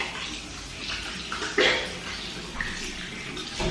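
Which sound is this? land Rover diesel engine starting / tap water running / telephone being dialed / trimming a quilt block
tap water running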